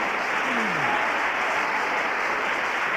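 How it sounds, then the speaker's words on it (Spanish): Steady applause from a large church congregation fills the whole stretch, dense and continuous at an even level. "Denle un aplauso al Señor"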